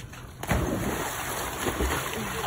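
A dog leaps from a boat into the water, making a sudden splash followed by sloshing and lapping water against the hull, close and moderately loud.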